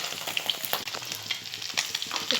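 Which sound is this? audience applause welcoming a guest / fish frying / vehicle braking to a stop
fish frying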